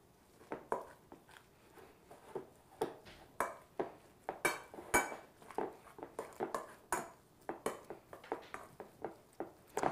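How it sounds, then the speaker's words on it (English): Salt being mixed into soft chèvre goat cheese curd: a busy run of small clicks and taps of a utensil against a bowl, close and irregular, with no talk. "So as I mix it, makes it a little bit smoother."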